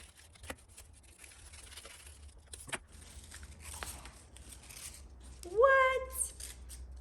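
Scissors snipping through paper Möbius loops taped together at right angles, several sharp separate cuts spaced over a few seconds, close and fairly quiet, with a brief voiced exclamation near the end.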